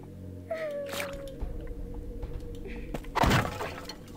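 Wooden boxes smashed in the video game Mask of Eternity: a sharp crashing break near the end, preceded by a whiny creature-like cry and layered game sounds over a low rumble.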